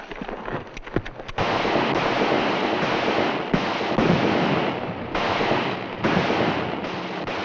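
Gunfire crackles through a western shootout, several sharp shots at the start giving way to a dense, sustained roar of noise with repeated bursts, loud and close throughout.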